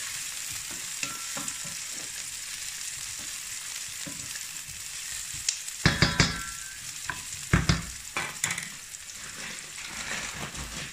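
Sausages browning in a frying pan for a rougail saucisse, a steady close sizzle throughout, broken by louder clattering stirs and scrapes of a utensil in the second half.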